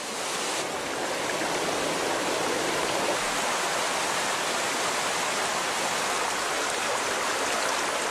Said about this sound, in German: Im nahen Balkangebirge verwandeln sich Rinnsale in reißende Bäche, schicken ihre Fluten hinab ins Donautal.